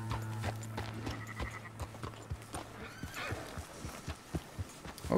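A horse in the Red Dead Redemption 2 video game, heard with clip-clop hoof steps and a neigh or whinny, close and fairly clear over a low game hum.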